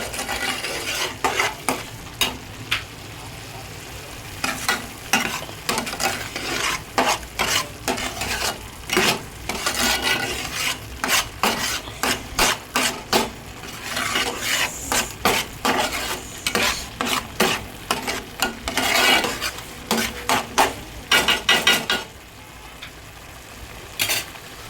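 A spoon scrapes and stirs fish curry with chili powder in a hot sizzling pan, giving repeated rapid clattering strokes over a steady frying hiss, close and fairly loud, ending in a quieter sizzle.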